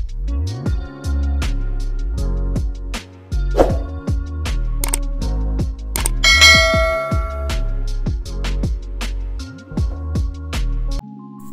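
A notification bell sound effect rings out as a loud, bright sequence of repeated chime tones with ringing overtones, struck in a quick melodic pattern and standing alone without talk.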